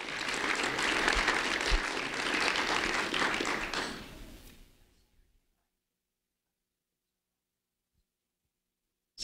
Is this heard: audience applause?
yes